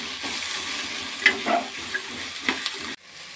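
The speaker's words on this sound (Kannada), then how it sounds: "ಅದನ್ನು ಫ್ರೈ ಮಾಡ್ಕೊಳ್ಳೋಣ." Spices and pepper frying in a hot pan: a steady close sizzle with a few scraping, clicking stirs, cutting off abruptly near the end and leaving a faint hiss.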